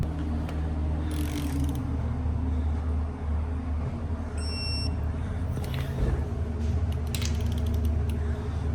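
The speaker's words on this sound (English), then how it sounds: "While they're torquing up the block" A torque wrench tightens ARP studs on a built Ford Mustang GT engine block, with ratcheting clicks and creaks over steady mechanical background noise and a few sharp metallic ticks.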